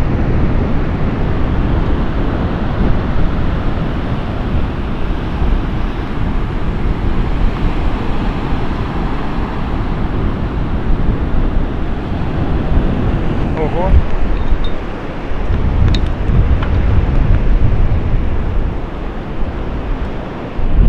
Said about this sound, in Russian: а море кипит.